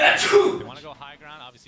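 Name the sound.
sneeze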